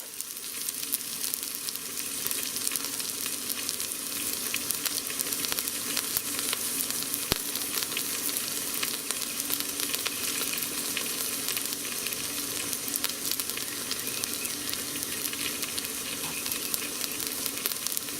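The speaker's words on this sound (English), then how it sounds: "I'm going to continue to brown this side up" Herbed pork loin roast sears in a hot pan, giving a steady, close sizzle and crackle that runs unbroken for the whole stretch with no voices over it.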